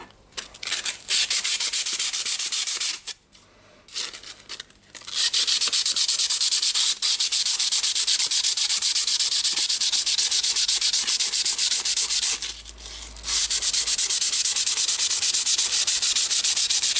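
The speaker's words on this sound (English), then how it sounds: "we can try to clean it a little bit with sanding paper" Sandpaper scrubs rust off a Makita BHR240 18V hammer drill in steady, loud back-and-forth strokes that run nearly nonstop, with a few short pauses between passes.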